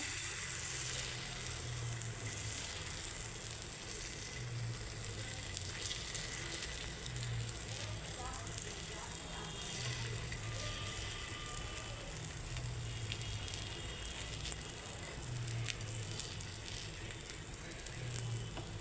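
A ladleful of semolina and sour-yogurt batter fries in hot oil in a wok, giving a steady, close sizzle and crackle that continues without talk.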